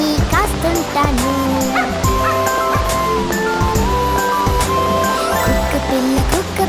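Barking of a puppy voiced within a children's cartoon song, a rhythmic voice imitating yips and bow-wows over steady, loud music with singing throughout.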